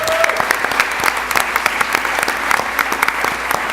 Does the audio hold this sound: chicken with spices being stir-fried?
no